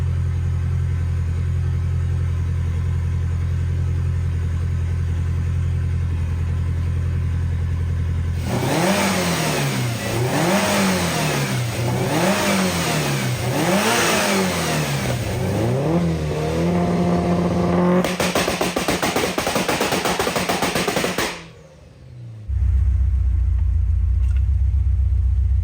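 A Subaru WRX fitted with a swapped six-speed gearbox idles steadily while warming up. Its engine then revs repeatedly in rising and falling surges and drops back to a lower idle, loud and close, with no talking.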